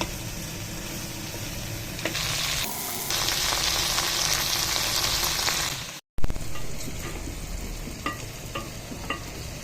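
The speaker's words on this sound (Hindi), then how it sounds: "भिंडी को हमने अच्छी तरह से फ्राई कर लिया" Okra frying in a pan for dhaba-style dahi bhindi, a steady loud sizzle with stirring scrapes, a brief break, then quieter frying with occasional clinks.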